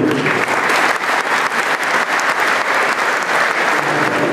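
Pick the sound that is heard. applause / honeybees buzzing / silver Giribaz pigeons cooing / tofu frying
applause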